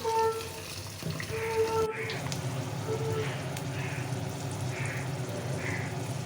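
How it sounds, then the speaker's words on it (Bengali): Water runs and splashes in a container as red spinach leaves are washed, close and moderately loud, with a few tonal background sounds early on and no talking. "আমি শাকটা আগে ধুয়ে নিই"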